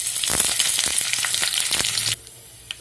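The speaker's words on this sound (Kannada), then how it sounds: "ಸಾಂಬಾರಿಗೆ ಒಗ್ಗರಣೆ ಹಾಕ್ತಾಯಿದ್ದೀನಿ" Mustard seeds, cumin and curry leaves crackle and sizzle in hot oil for a sambar tempering, a dense close spatter with sharp pops that cuts off abruptly near the end, leaving quiet.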